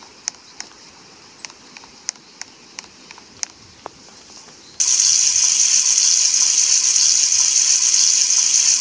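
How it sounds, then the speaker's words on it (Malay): Morning shower water starts suddenly partway through and keeps running as a steady, loud hiss, after a few sharp clicks and taps in an otherwise quiet bathroom. "Pagi-pagi kena mandi dulu."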